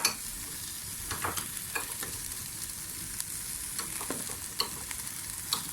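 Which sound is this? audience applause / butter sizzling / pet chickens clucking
butter sizzling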